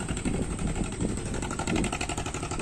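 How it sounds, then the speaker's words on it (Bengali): The engine of a small motorized fishing trawler idles nearby at Shankarpur jetty fishing harbour, producing a steady, throbbing low chug that runs without pause. "এটা যে তোমরা দেখছো এটা কিন্তু ভুটভুটি দেখো"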